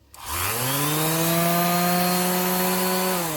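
A small vibrating sander on polymer clay whirs up and holds a steady, loud buzzing drone with a strong hum, close by and without speech.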